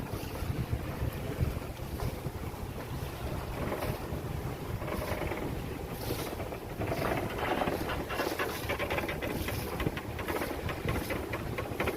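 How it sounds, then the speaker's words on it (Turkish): Strong storm wind roars over a sailing boat leaving an exposed anchorage near Palau, a loud continuous buffeting with wind noise on the microphone and waves washing beneath, steady throughout with no voices. "Çok yüksek bir fırtına var."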